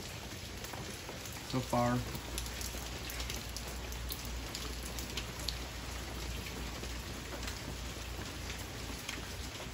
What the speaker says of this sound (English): So basically it's just raining